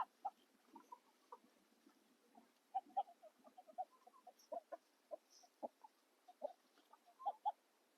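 Faint, soft raspy whistling peeps from a drake repeat in short irregular bursts, close by in an otherwise quiet setting.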